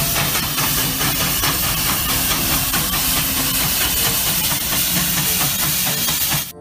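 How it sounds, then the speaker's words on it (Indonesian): A locomotive train gives off loud, continuous hissing steam with a rumbling engine underneath, steady and close, cutting off abruptly at the end. "Wow, yang ini kereta api lokomotif teman-teman."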